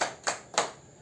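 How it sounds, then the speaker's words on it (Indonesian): Three sharp, evenly spaced claps from a group of mothers at a parenting session doing a rhythmic 'tepuk hebat' cheer, crisp and close, with no talking over them. "Tepuk hebat untuk Bu Tiara nggih, ibu-ibu."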